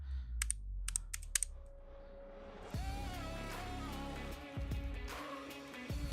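A few crisp computer keyboard keystrokes tap out close and quick at the start, followed by a quiet stretch with a softer background of game sounds.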